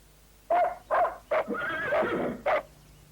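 A black stallion neighs in a sequence of sharp whinnying bursts, several short calls and one longer drawn-out whinny, close and loud over near silence.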